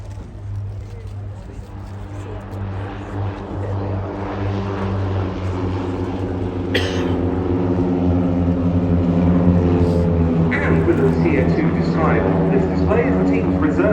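Six MFI-15 Safari propeller aircraft rolling for takeoff at the RIAT airshow, a loud steady engine drone that builds in pitch and volume while an announcer talks over it.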